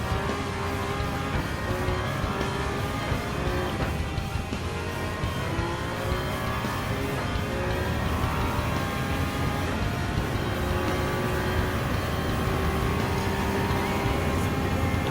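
Toyota GR010 Hybrid race car in Gran Turismo 7 rounding the Porsche curve at Le Mans, its engine a continuous loud, high-revving drone with steady pitch sweeps as it accelerates, no voices over it.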